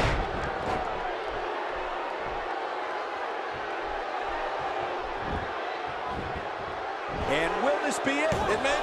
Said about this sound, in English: Detroit has had the reputation for being an electric crowd